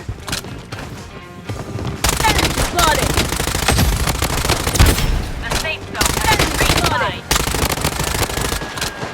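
Automatic weapon fire from the Blood Strike shooter game erupts in loud rapid bursts, breaking off and resuming, with a player's voice talking over parts of the exchange.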